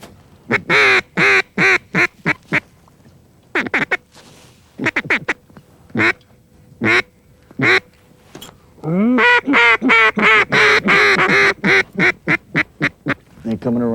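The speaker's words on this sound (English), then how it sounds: "Jeff, there's a group of ducks right out there." A flock of ducks quacking outdoors during a hunt, loud repeated calls in bursts that build into a dense, continuous chorus, with voices talking intermittently.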